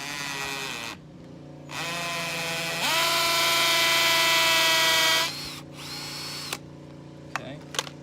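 A hammer drill bores into concrete while landscape edging is laid with plastic lumber, giving a loud, close, high whine that runs in bursts, rising in pitch and power, then cutting off with a few short stops and restarts.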